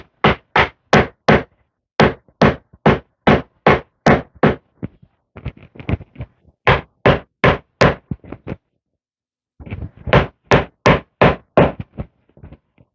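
Plastic shelf parts are hammered into place in rapid, evenly spaced strikes, loud and close. The blows come in three bursts of roughly eight to twelve hits each, broken by short pauses and a bit of scraping, with no talking.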